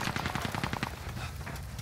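Rapid SMG gunfire in a first-person shooter video game, a fast burst of close, sharp shots in quick rhythm that stops partway through, leaving a brief tail.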